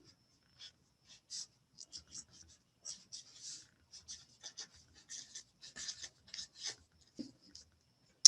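A pen scratches across paper in short, close strokes, with quiet bursts and brief pauses that follow the rhythm of handwritten words.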